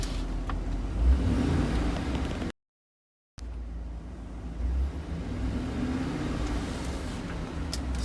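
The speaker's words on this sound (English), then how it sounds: "Give it a little bit of gas." A truck on its stock exhaust, before a cherry bomb glasspack is fitted, takes light throttle. The engine drones low and steady up close, swelling slightly with the gas, and a brief silent gap breaks it near the start.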